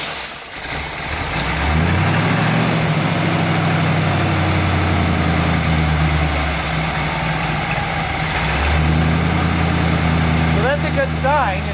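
A 1959 GMC truck engine cranks and catches, then settles into a steady, loud idle with slight unevenness and a brief rev near the end while someone talks over it.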